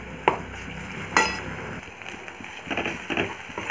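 Spices and a ginger-garlic-coconut paste with turmeric and coriander powder are stirred in a pan for an aloo-baingan curry, giving a low sizzle with a few sharp spoon scrapes and clinks against the pan.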